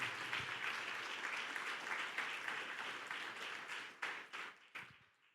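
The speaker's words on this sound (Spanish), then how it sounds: "Dale un aplauso a Cristo" A church congregation claps for Christ during an Easter resurrection service, a full, steady applause that thins out near the end into a few last scattered claps.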